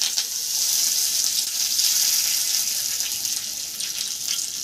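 Curry leaves and chana dal frying in hot oil for a masala dosa filling give a steady, close, loud sizzling hiss with fine crackle throughout, with no voices.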